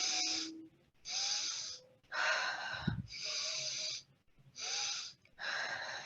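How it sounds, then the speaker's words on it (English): Rapid, forceful nasal breaths in a guided breathing exercise come in six bursts with short pauses between them, close and fairly loud, with a quick sniff near the start. "Keep going at your own pace. Fast breath."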